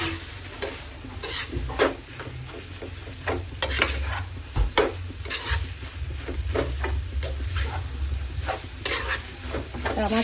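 A spoon stirs boti curry in a pan with salt and tomato paste, producing irregular scrapes and clinks over a low background hum, close and moderately loud, with a few sharper knocks mixed in.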